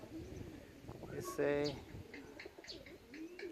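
A racing pigeon gives a short, soft cooing call, close by but quiet, with a brief spoken word nearby.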